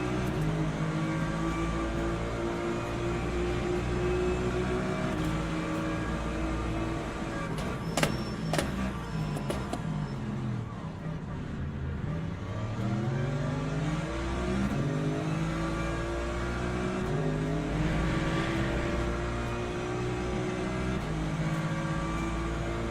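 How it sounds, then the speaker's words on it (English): BMW race car in Le Mans Ultimate accelerating hard, engine note climbing through gears with rising harmonics and brief shift breaks, steady loud drone of racing traffic around it. "BMW is really quick off acceleration."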